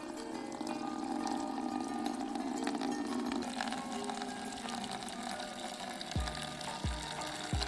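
Hot water pouring steadily from a just-opened outlet of an outdoor water heater, a continuous close rushing gush, with a couple of low thumps near the end.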